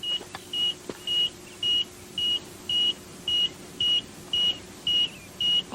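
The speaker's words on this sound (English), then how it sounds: "That's a smoke alarm." A smoke alarm in a house beeps repeatedly, eleven evenly spaced high-pitched tones about half a second apart, loud and piercing over a quiet room.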